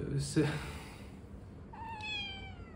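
A single cat meow rises clearly near the end after a brief burst of activity, moderately close with little else around it.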